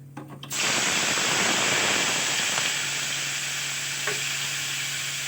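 Tomato drops into a hot pan of frying spices for a paneer niramish korma, setting off a loud, steady sizzle that bursts in suddenly and holds close and even, with no talk over it.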